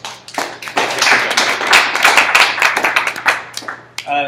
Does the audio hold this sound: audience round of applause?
yes